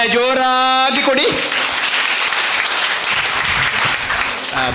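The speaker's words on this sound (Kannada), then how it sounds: "70 ವರ್ಷದ ಯುವತಿ ಯಶೋದಕ್ಕನಿಗೆ ನಮ್ಮ ಚಪ್ಪಾಳೆ ಜೋರಾಗಿ ಕೊಡಿ" Loud, dense applause from an audience at an inauguration ceremony, honouring a 70-year-old woman, breaking out as a voice ends and continuing strongly, close and sustained.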